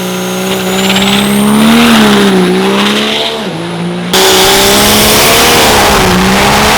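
A pro street second-generation Dodge race truck engine roars loud and close, its pitch climbing and dipping as it revs hard, then cutting to another sustained high-revving run.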